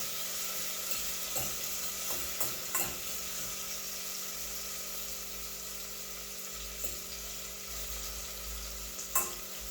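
Ackee and saltfish sautéing in a pot, with a steady close frying hiss and occasional soft spoon stirs and knocks against the pot.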